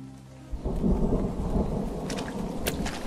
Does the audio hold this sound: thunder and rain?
yes